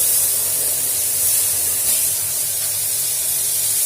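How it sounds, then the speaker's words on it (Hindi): Lentils (dal) hit hot oil with tempering spices in a pan, giving a steady, close, loud sizzling hiss that holds evenly throughout without speech. "जैसे ही ऑयल गर्म हो जाएगा इसमें हम ये फोरन डाल देंगे। इसमें हम दाल डाल देंगे।"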